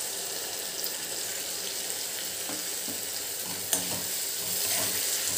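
Softened tomato masala for dhaba-style aloo bhaji sizzles steadily in a pan, with a constant hiss and a few light clinks as it is stirred.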